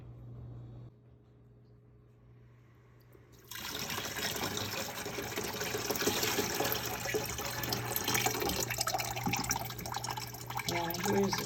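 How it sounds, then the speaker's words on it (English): A watery clay and sand slurry is poured into a container, a steady splashing, gurgling pour close by that starts after a quiet moment and continues loudly to the end. "and then pour the rest of it in there."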